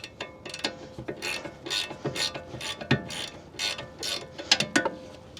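A wrench ratchets a rear brake bolt loose on a 2019 Toyota RAV4, with quick bursts of close, sharp clicking that come in uneven spurts.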